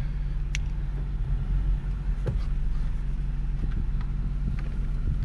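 A pickup truck fitted with an antenna on the front rolls along an off-road trail in Ocala National Forest, its engine rumbling steadily with scattered bumps and wind buffeting the microphone.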